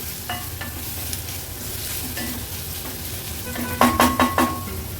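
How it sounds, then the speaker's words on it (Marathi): Onion with crushed ginger and garlic frying over a medium flame, giving a soft continuous sizzle with a few sharp utensil scrapes and clinks toward the end, no voices. "कांदा व्यवस्थित मीडियम फ्लेमवर आपल्याला शिजवून घ्यायचा आहे."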